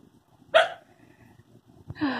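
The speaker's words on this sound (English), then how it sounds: "She doesn't even know what she's barking at." Two loud, close dog barks sound alone about a second and a half apart, each a short sharp yelp over a faint low background hum.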